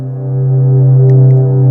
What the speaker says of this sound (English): This one is a phase distortion synth